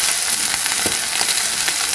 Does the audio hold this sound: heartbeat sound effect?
no